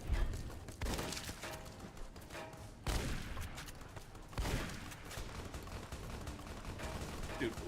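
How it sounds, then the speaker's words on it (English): Gunfire from enemies on a ridge in Fallout: New Vegas, dense bursts of rapid shots with heavy booming impacts, loud and continuous, swelling in several waves. "Dude, who is shooting at me?"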